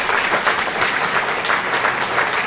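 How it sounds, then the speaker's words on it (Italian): A lecture audience at an Italian talk on science applauds in a loud, continuous wash of many hands clapping, even and sustained throughout with no voices over it. "Invito adesso Corrado Malanga, grazie, un applauso."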